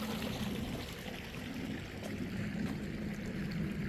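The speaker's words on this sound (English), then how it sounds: "And this waterfall fills up from those." A backyard waterfall, fed by a pipe and running full, pours in a steady, even rush of splashing water that stays close and constant throughout, with no voices.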